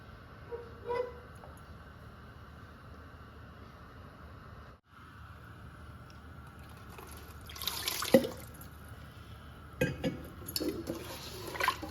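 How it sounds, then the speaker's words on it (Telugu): Water trickles and splashes into a pot of fish curry with raw mango pieces in a few bursts, with quieter stretches between the pours. "ఈ నీళ్ళు కూడా పోసేద్దామండి"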